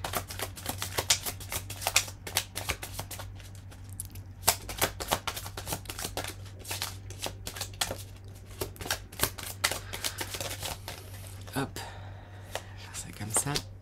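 Tarot cards shuffled by hand, with quick rapid riffles and soft slaps that come in bursts across the whole stretch, close up, over a low steady hum.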